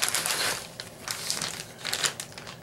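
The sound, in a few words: plastic bag crinkling as board game components are removed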